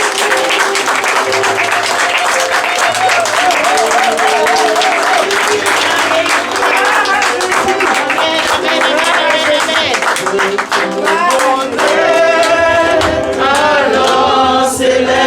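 A church congregation at a pastor's ordination service breaks into sustained, loud applause and cheering that rolls on without pause, with voices and what sounds like singing rising near the end.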